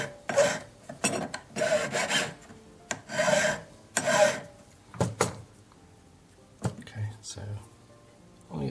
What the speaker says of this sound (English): so we just need to file a very slight angle so that when it comes together